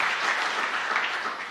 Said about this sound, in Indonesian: Ayo tepuk tangan yang meriah bagi Tuhan Yesus.